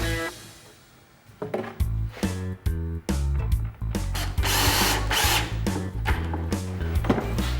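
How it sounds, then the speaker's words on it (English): A cordless drill drives screws into pre-drilled flat pack kitchen cabinets, several loud whirring bursts in quick succession, each stopping abruptly, with clicks and knocks of wood between them. "They're even pre-drilled, so all you have to do is screw them together."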